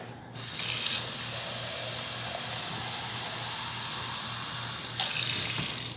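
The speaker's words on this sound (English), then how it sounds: "And we'll put water in here." Tap water pours steadily into a jar, a continuous hissing splash with brief louder bursts at the start and near the end.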